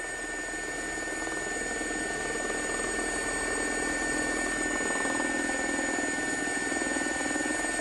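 A JRX Gazelle helicopter in the X-Plane flight simulator makes a steady, continuous rotor and turbine drone with a high whine on top. The sound is constant and close, with no voices.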